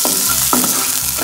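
Onions frying in a pan for a sardine dish, with a steady sizzle throughout, broken by a few short stirring scrapes at even intervals.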